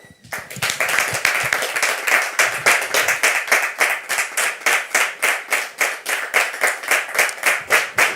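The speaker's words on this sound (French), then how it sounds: "Merci de le recevoir sous vos applaudissements." An audience at a church talk show applauds to welcome a guest: scattered claps at first, then settling into steady rhythmic unison clapping that continues loud and close for several seconds.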